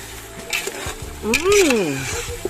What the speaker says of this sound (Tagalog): Tomato sauce. Halo rin, niluluwag.